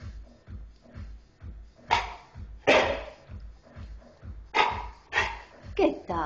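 A dog barks sharply on command several times at close range, loud yaps scattered over a steady low rhythmic thumping background.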